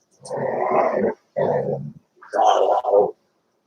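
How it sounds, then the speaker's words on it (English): A dog growls low in three sustained bursts, the first long and the next two shorter, close and fairly loud with brief silences between them. "Don't be growling at me like that."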